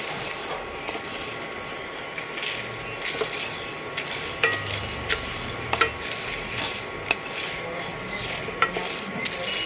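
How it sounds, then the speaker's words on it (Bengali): Chili and black pepper are dry-roasted in a pan and stirred, a steady faint sizzle and rustle with scattered light scraping clicks, no talking. "বন্ধুরা আমি এই লঙ্কাটা আর গোলমরিচটা একটু গুঁড়ো করে নেব ভেজে"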